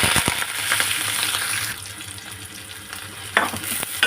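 Bay leaves, sliced onion, green chillies and curry leaves frying in hot oil for a spicy mutton masala curry, giving a steady close sizzle with stirring clatter and a few sharper spatters near the end.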